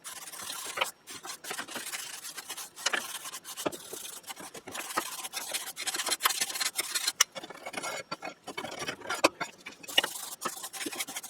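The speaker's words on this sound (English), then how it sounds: "a little bit of scraping, a little bit of brushing, a little bit of vacuuming" Scraping and brushing of deposits inside an oil furnace, an irregular series of faint rasping strokes and scratchy rubs that continue without voices.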